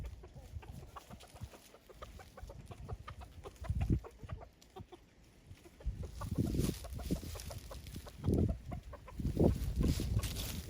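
Chickens clucking outdoors on a windy farm, a steady stream of soft, irregular clucks and murmurs, some bursts louder and closer than others, alone with no talking.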